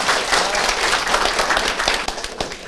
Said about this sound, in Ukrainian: вас привітати під бурхливі оплески